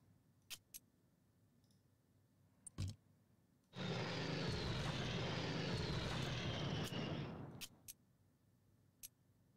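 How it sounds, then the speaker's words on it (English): A bomber attack in the strategy game Unity of Command II: a loud aircraft engine roar swells in and holds for about four seconds, framed by scattered sharp clicks before and after. "I guess I'll just use that bomber card right away."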